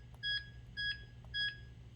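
DMP touchscreen alarm keypad in a residential home chirping as a user code is entered: three short, evenly spaced electronic beeps, clear and fairly close over a quiet background.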